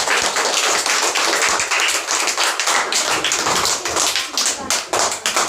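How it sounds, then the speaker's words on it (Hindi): An audience claps together at a Shiva devotional gathering after a bhajan, a dense, steady burst of applause that stays loud and fills the whole stretch without any speech. "जोरदार ताली इसके लिए।"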